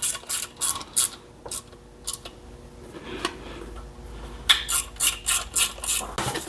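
A wrench ratchets while torquing down bolts on a Kohler Courage garden tractor engine, making close, crisp clicking bursts in rhythmic strokes, with a quieter pause in the middle before a fast run of clicks.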